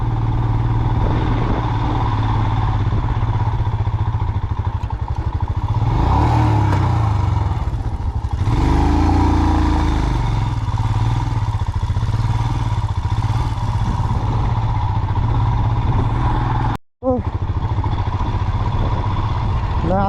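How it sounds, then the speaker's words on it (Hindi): Motorcycle rides a rough mountain road on the Adi Kailash route near Dharchula, its engine droning steadily with clattering over rocky ground, a rise in revs midway and a brief dropout near the end. "ऐसी बाइकों में ऐसी जगह ना चला तो क्या चला।"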